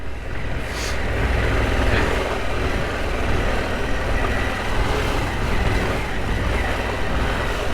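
Harley-Davidson Pan America Special adventure motorcycle riding off-road through a big puddle, giving a steady, loud, broadband rumble of engine and wash that holds for the whole stretch with no talk.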